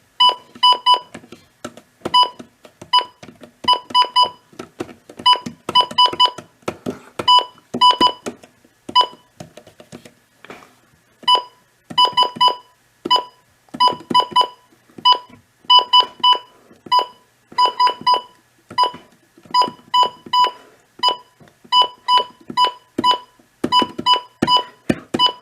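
Bright electronic alert beeps from a Midland WR 100 weather radio repeat in rapid clusters and rhythmic patterns, loud and clear with short gaps, no voices.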